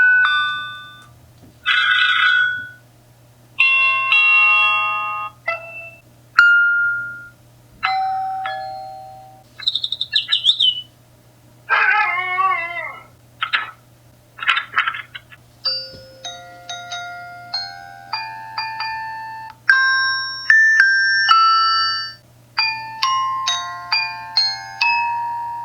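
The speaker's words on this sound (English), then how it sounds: "Curious to know what chime sounds you have?" A Wyze Duo Cam Doorbell digital chime plays through a long series of different ringtones, one after another, each a clear, close melodic tune of bright tones with short pauses between, over a steady low hum.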